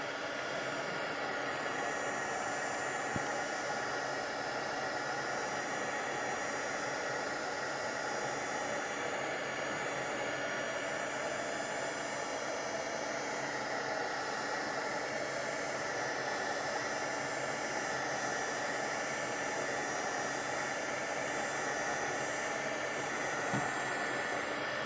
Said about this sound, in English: We're going to heat it up and remove it.